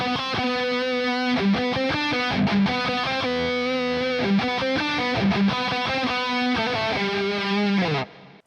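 A single distorted electric guitar plays the second line of a harmony riff from a 1988 album, with rapid, evenly picked melodic notes that are loud and up front, ending abruptly after about eight seconds.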